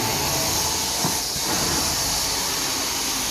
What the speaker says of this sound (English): got to heat them up and then vacuum aggressively over them to get them to come out